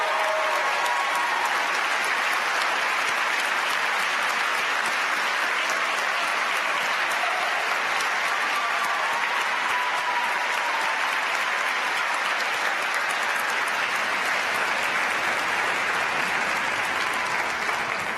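A large audience gives sustained, dense applause for the 2019 dental school graduates at their ceremony, loud and continuous for the whole stretch with a faint crowd murmur underneath.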